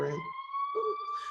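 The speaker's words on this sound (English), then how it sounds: "I think I was just sorry, it's a siren." A steady wailing siren tone holds throughout, sounding at moderate distance under intermittent speech that comes and goes at the start and middle.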